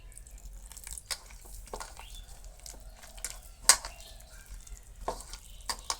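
Gram flour batter for brinjal cutlets, made with water and no egg, is mixed in a bowl, giving soft wet slaps and scattered sharp clicks of the spoon at an irregular pace, close and fairly quiet.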